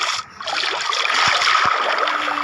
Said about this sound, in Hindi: चलो कूद जाते हैं भाई पानी में